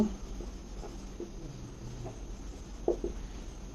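Chalk or pen scratches out short, soft, intermittent strokes on a board during a Class 10 trigonometry lesson on the Pythagorean theorem, quiet and close in a faint room hush.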